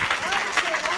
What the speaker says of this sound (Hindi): मैं चाहता हूँ एक बार तालियां सुमित के लिए भी आपकी बजनी चाहिए